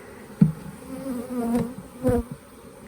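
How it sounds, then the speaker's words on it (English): Honey bees buzz around backyard beehives, several individual insects droning past close to the ear with rising and fading hums over a soft outdoor background. "Lots of bees out here."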